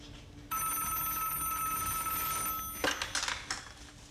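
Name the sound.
telephone ringing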